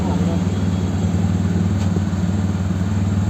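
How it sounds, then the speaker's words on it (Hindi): Royal Enfield Classic 350 Reborn motorcycle idling on its stock silencer, a steady, close, rhythmic thumping exhaust with even low pulses throughout. "तो हम आपको इसका बताएंगे अभी एग्जॉस्ट में साउंड"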